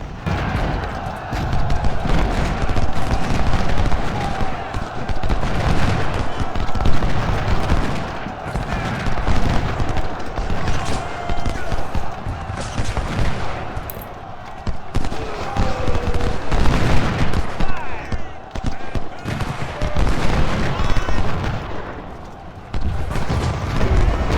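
Musket volleys and artillery fire in Ultimate General: Civil War rage continuously, dense crackling gunfire layered with deep booms, loud and sustained throughout with a steady battle din underneath.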